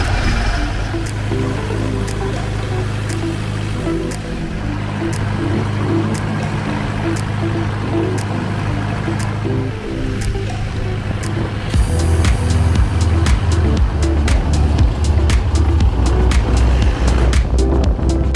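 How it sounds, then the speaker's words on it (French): A boat with two outboard motors, one on each side, departing for the islands of Koh Rong in Cambodia: a loud, steady engine drone that grows heavier partway through, with water rushing beneath. "nous avons deux moteurs stéréo Dolby Surround, un de chaque côté."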